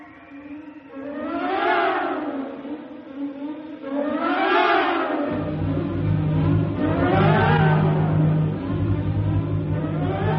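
Howling gale wind in a science-fiction radio drama, loud rising and falling whooshing gusts in slow swells, joined midway by a steady low roar underneath.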